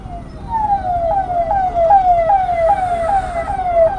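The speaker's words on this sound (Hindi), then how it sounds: "सायरन बजा दो भैया, हमें नहीं रुकना है।" A loud, close vehicle siren wails in repeated rapid falling sweeps, roughly two per second, over a low rumble of traffic on the road.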